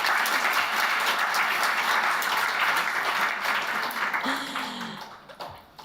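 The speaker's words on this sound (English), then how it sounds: "Let's just have one more round of applause for First Lady Herzog" An audience at the Jerusalem Post Women Leaders Summit 2026 applauds First Lady Herzog, a dense, sustained round of clapping from a large crowd that thins and fades over the last second.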